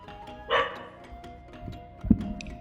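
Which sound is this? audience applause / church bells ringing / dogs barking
dogs barking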